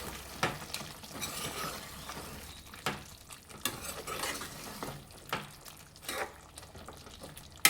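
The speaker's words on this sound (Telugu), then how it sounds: "దీన్ని మంచిగా కలుపుకోవాలి." A spoon scrapes and stirs thick chicken curry masala in a pan, with repeated soft clinks against the metal over a faint sizzle.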